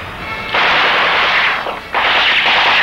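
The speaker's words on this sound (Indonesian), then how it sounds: "Dengan meriam pewitsernya, Belanda menghantam kantong-kantong pertahanan para pejuang sehingga terjadi pertempuran yang sengit" A couple of heavy howitzer artillery blasts roar out in quick succession, loud and broad, with a rumbling tail between shots.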